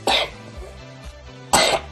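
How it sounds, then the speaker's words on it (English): Two sharp, close coughs from one person, about a second and a half apart, with a quiet gap between them and no talking. "Oh, I still have a cough."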